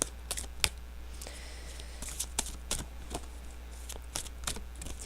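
Witch's Wisdom oracle cards being shuffled by hand: irregular soft riffling snaps and slides, fairly close and quiet, alone without talk.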